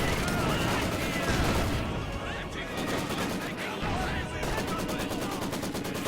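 Dense video-game battle gunfire from a Company of Heroes match, rapid machine-gun bursts and rifle shots crackling nonstop, loud and close, with a voice talking over the combat.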